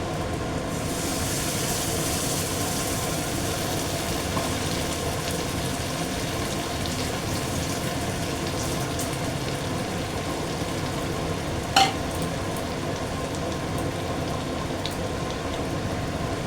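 Spices frying in a pan for an egg curry made with double-yolk eggs, producing an even, rain-like hiss that holds steady throughout, with one brief sharp tap near the end.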